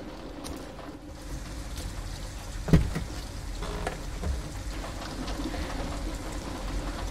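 Steady rain in Detroit: Become Human hisses and patters continuously, with one sharp thump partway through and no voices.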